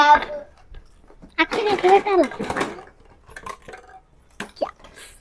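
Toy kitchen spoons and small utensils from a children's play set clatter and clink in short bursts, close by, with a voice talking over and between the rattles.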